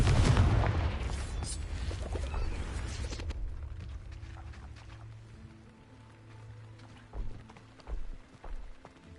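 A Confringo blasting spell explodes in Hogwarts Legacy: a loud, rumbling fiery burst fills the first three seconds, then dies into a low hum with a few softer thuds near the end.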